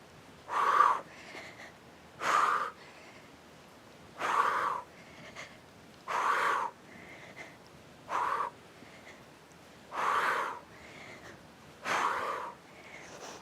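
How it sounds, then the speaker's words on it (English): Heavy, rasping breaths repeat at a steady rhythm, about eight strong exhales close to the listener with quieter inhales between them. "You hear my breathing?"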